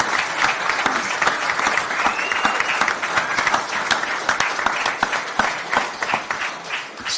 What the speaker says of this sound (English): a round of applause for an unbelievable performance